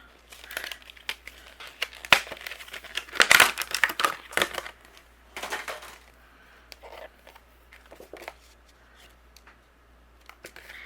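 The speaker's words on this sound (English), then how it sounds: "we're going to emboss a panel with our embossing folder" Crinkly, rustling handling of white cardstock and a plastic embossing folder, with irregular crisp bursts of crackle and shuffling close up, fairly quiet, no voices.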